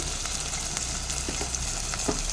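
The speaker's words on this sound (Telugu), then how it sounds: "అల్లం ఎల్లిగడ్డ పేస్ట్ కూడా వేసేస్తున్నా." Steady, dense sizzling of ginger garlic paste frying in a pan of mutton curry, with faint stirring clicks, continuous and close.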